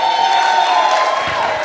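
Audience at a University of Nairobi medicine ceremony held at a hotel, applauding and cheering in a steady, dense burst of clapping, whoops and crowd noise filling the room.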